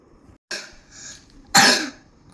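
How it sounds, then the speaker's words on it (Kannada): Someone indoors gives two close coughs, a short one and then a louder, harsher burst, with quiet room sound in between. "ನಿನ್ನ ಕೆಮ್ಮದು ಬೇರೆ ಕಣೋ"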